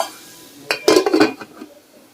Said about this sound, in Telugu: ఇప్పుడు ఈ వంకాయ ముక్కలు మొత్తం మగ్గే వరకు మనం మళ్ళీ మూత పెట్టేసుకుందాం